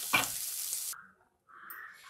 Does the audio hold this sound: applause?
no